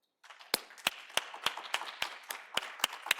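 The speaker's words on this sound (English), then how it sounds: "I want you to give applause for yourselves and for those who are new to this amazing program" Several hands clapping sharply in a slow, uneven rhythm at a human rights program anniversary gathering, about nine distinct claps over a soft background hum, fairly close and moderately loud.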